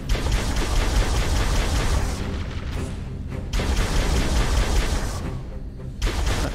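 A mounted turret in Halo: Combat Evolved fires in long, loud, booming bursts of rapid shots, with a couple of short pauses between bursts and no talking.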